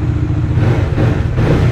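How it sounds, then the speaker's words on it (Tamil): A 2020 Bajaj Dominar 400 BS6 motorcycle engine starts and runs up close, giving a loud, steady low throbbing rumble with slight swells in revs. "hey, starting the bike"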